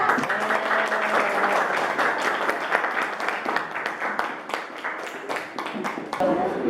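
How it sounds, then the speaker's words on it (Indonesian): A classroom of students applauds group 3 after its presentation, with brisk, crowded clapping from many small hands throughout and a few voices mixed in. "Tepuk tangan dulu untuk kelompok 3"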